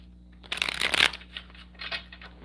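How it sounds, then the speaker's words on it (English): A deck of oracle cards being shuffled and cut by hand, a dense riffling burst followed by a few softer card flicks and slides, close and fairly quiet with no talking. "I'm cutting the deck while I'm shuffling at the guidance card"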